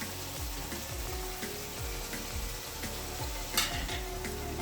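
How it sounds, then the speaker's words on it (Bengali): Chili and cumin powder spices frying in oil for a chicken jhal curry, a steady close sizzle with repeated stirring scrapes in a loose rhythm throughout, one brief louder hiss near the end. "মশলাগুলো আমরা ভালো করে নেড়ে চেড়ে ভেজে নেব"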